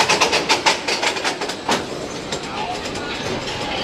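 The Seven Dwarfs Mine Train roller coaster at Disney World's Magic Kingdom rumbles along its track, rhythmic clacking over the rails giving way to a steady loud roar, heard close up from on board.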